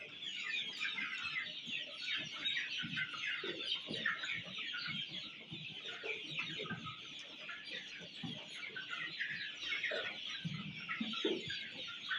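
Many native desi hens and roosters of mixed colours cluck and chatter continuously in a flock on a poultry farm, with scattered louder clucks popping up against a steady bright bird chorus.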